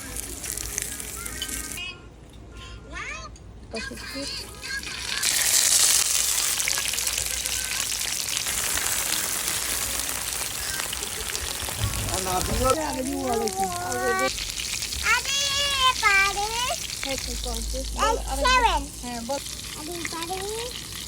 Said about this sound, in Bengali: শীতল শুটকিরে লাউ পাতা দিয়ে বড়া বানাইতেছি।